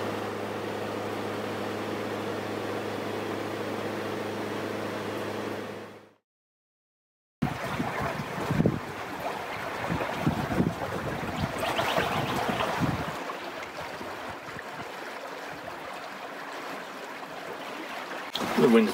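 Gusty wind rushes across the microphone on a sailboat running downwind along the Berkeley River in the Kimberley. It follows a steady humming stretch that fades into brief silence.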